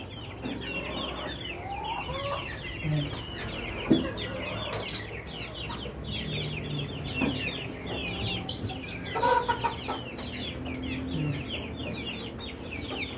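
Rhode Island Red chickens on a farm cluck in a steady, overlapping chorus, close and moderately loud, with a few sharper calls standing out and continuous background noise throughout.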